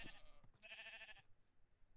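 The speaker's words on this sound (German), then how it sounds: "Die ganzen Ziegen, die können hier rausspringen!" Several goats bleat in Minecraft, a short high cry and then a longer wavering bleat, fairly close and alone with no talk.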